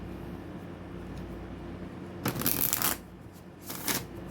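Oracle cards shuffled for a spiritual card reading, two quick bursts of riffling card noise close by over a faint steady hum, with no talking.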